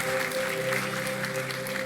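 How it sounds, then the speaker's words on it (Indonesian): Church congregation applauding during an online worship service, a dense, steady wash of clapping over a sustained musical hum, continuous for a couple of seconds. "Sekali lagi tepuk tangan yang luar biasa bagi Tuhan kita."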